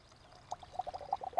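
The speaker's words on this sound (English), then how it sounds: "What you're going to do is pour the water" Water is poured into a large glass jar holding a handful of soil, making a series of quick gurgling, bubbling plips that grow busier toward the end, close by and fairly quiet, with no talking.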